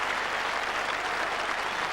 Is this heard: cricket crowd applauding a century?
yes